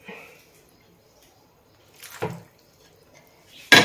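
Water poured into a bowl to rinse out grated coconut gives short splashes and trickles nearby, one burst in the middle and another louder at the end, with quiet gaps between.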